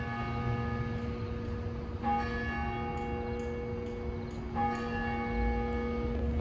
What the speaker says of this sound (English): The clock tower still chimes.